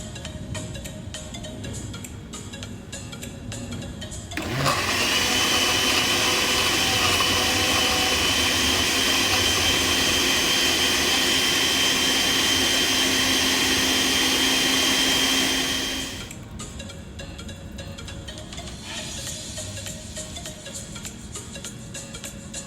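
A blender runs for about eleven seconds, blending ginger with a quarter cup of water for a Jamaican-style juice. It is a loud, steady high-pitched whir that starts and stops abruptly, with quieter kitchen ambience before and after.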